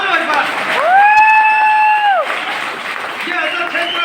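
An audience claps steadily in a hall while a drawn-out shout or whoop rises over the clapping in the middle, and crowd noise fills the background throughout.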